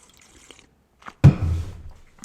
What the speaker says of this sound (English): Get a little sip of water first.